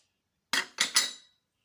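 Cups and saucers are handled, giving three sharp ceramic clinks in quick succession, close and clear against silence.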